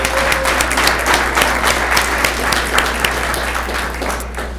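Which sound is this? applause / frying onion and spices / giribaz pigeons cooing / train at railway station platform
applause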